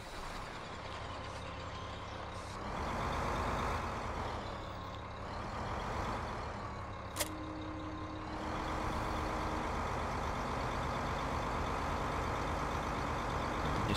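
A tractor engine in Farming Simulator 2015 drones steadily at close range, its pitch rising and falling as it works, with one brief sharp click partway through and no voices.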